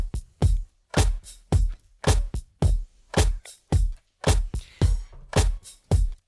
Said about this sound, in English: so we're gonna start with the drum beat, which sounds like this.